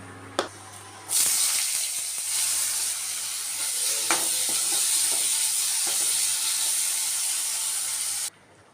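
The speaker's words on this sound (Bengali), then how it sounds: "আর এখন কড়াইতে দিয়ে দিচ্ছি সর্ষের তেল" Mustard oil hisses in a hot wok, a loud sustained sizzle that starts abruptly, holds for about seven seconds, then cuts off.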